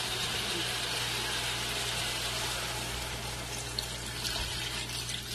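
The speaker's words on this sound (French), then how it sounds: "Et là, maintenant, j'ajoute de l'eau." Water poured into a pot of seasoned meat with red oil for an Ivorian djoumblé sauce: a steady close rushing splash that runs continuously with little change.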